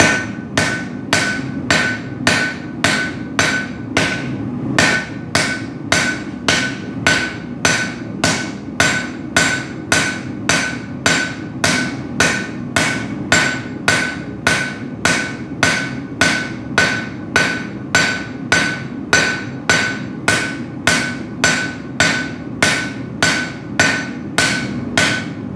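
Steady, evenly spaced hammer blows ring out on a knife blade being forged, loud and close, around forty sharp metallic strikes in a regular rhythm with no talking.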